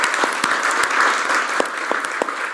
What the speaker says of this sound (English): let's give all our panelists, our colleagues who provide intervention just now another round of applause